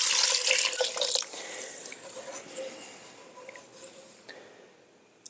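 Homemade vegetable broth made from kitchen scraps is poured into a pot for a peanut stew, a steady liquid splash that fades out over a few seconds, close and alone.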